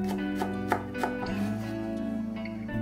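A knife chops a peeled garlic clove on a board, a handful of sharp, separate taps at an uneven pace, close and moderately quiet, with no voices.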